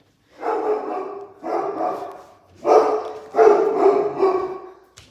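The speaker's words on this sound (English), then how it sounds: "Doodle's barking." A dog barks in five bursts, loud and close, with short pauses between them and no other sounds.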